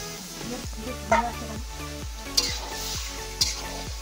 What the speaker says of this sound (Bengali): এদিকে চিলি চিকেন ভাজা চলছে